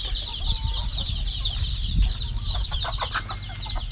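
Laying hens cluck close by, a busy run of short clucks and calls from several birds over steady outdoor background noise.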